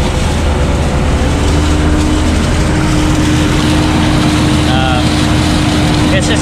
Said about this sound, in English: driving with the tractor to line up the rows back there